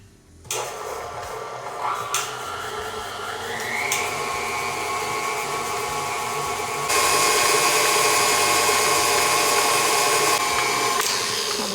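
Electric hand mixer creaming a cup of sugar with half a cup of Crisco for banana bread, a steady close whirring drone running throughout and stepping up louder partway through, with no talking.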